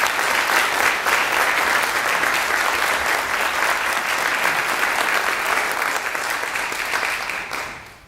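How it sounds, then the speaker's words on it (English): Audience applause at a school band concert, a steady wash of many hands clapping close by that holds evenly before fading out at the end. "So if we can give those two a nice round of applause,"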